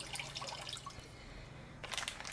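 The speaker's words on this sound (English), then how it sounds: "just fill your pot a little over halfway with water" Tap water running steadily into a cooking pot, filling it a little over halfway for rice cake soup, a close continuous splashing gush that lasts throughout.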